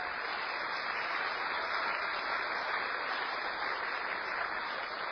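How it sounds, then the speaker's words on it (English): Faint, steady applause from an audience for the vegetables, a soft even hiss of many hands clapping at a distance with no talk over it. "Now, a round of applause"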